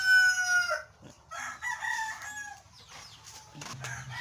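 Backyard chickens kept as poultry, with a rooster crowing loudly up close and hens clucking around it, the crowing strong at the start and the clucks scattered and fainter over the rest.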